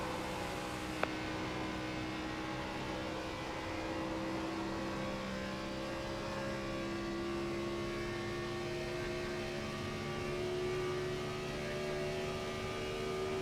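A vintage race car in the iRacing simulator laps Dover, its engine a steady, sustained drone held at high revs with slowly shifting pitch, loud and continuous with no talking.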